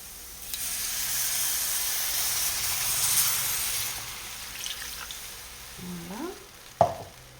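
Red wine is poured into a pan for œufs meurette and sizzles with a steady hiss. Near the end come a few brief stirring scrapes and a clack. The sound is close and plays alone.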